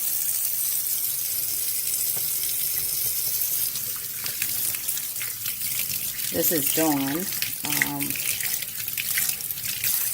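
Warm soapy water runs from a kitchen tap into a sink, a steady broadband rush filling the background throughout, with someone talking briefly over it.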